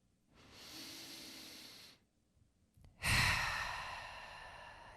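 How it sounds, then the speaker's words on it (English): Two slow, deep breaths with no talking: a long airy inhale, a brief pause, then a louder, breathy exhale that fades out gradually. Both are close and clear, during a guided exercise for calming anxiety. "Let's take a few deep breaths."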